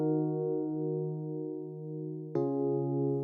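A keys patch in Studio One with no tremolo effect, a smooth steady sustained chord changing once to a new chord partway through, even in volume and heard alone.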